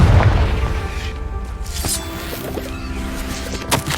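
A Confringo blasting spell in the video game Hogwarts Legacy, a deep booming explosion at the start followed by crackling debris, scattered pops and a few sharp bursts, with no talk over it.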